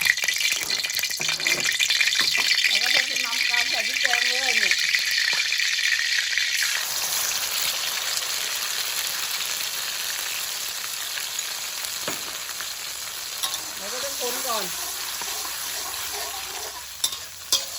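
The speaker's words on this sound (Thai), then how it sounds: "อืมเราต้องผัดพริกแกงให้เหลืองก่อน คนไปก่อน" Red curry paste stir-fries in hot oil in a wok for a Thai dry frog curry, a loud continuous sizzle with scraping spatula strokes and occasional higher chirping squeaks, close up.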